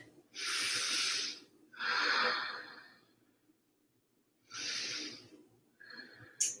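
Three long, loud, breathy exhalations through the nose or mouth during a yoga pose, separated by pauses, then a short sharp breath at the end; close to the microphone, no talking.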